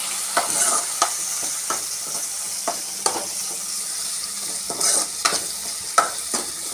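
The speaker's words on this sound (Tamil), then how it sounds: "ஸோ அந்த தக்காளியையும் நல்லா வதக்கிக்கலாம்." A medium onion and tomato are sautéed in a pan under a steady frying sizzle, with repeated sharp scrapes and taps of a spatula stirring them. The sound is close and there is no speech.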